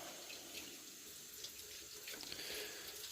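Tap water running steadily into a sink while things are rinsed off, a continuous close splashing stream with no talk.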